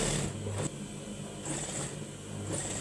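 A sewing machine stitches fabric while a six-panel round-neck dress is being sewn, a close, steady mechanical whir with brief pauses and short bursts of higher clatter between runs.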